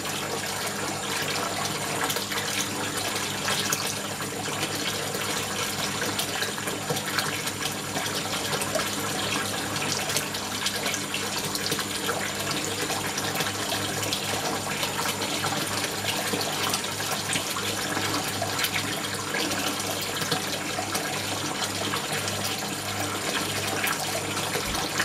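Water gushes steadily through an aquaponics tank setup driven by a pump rated around 1,800 liters per hour, with a siphon draining it; a continuous, fairly loud rushing flow fills the whole stretch without pause.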